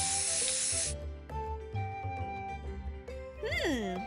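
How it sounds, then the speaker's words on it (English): A can of green hair coloring spray hisses in one steady, close burst for about a second onto a beard, followed by rustling handling sounds and other studio noises. "Color the beard with green hair coloring spray."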